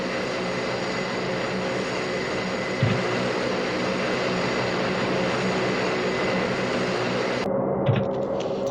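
The propeller engine of a plane in a flight simulation game drones steadily with a constant tonal hum. Two faint thumps break it, and the high end drops out near the end.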